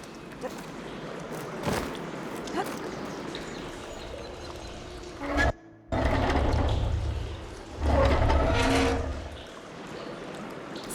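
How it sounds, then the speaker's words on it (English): Water flowing through pipes in a room in the video game Horizon Forbidden West, a gurgling, rushing wash that swells and fades in bursts amid game ambience, moderately loud. "Aloy, I can hear water in the room again."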